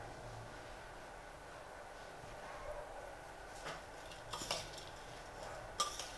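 Matki bhel, a spiced sprouted moth bean snack, tossed and mixed in a bowl, with faint quiet stirring that turns into a few sharper clinks of a spoon against the bowl near the end.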